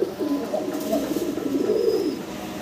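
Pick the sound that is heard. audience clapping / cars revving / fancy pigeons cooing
fancy pigeons cooing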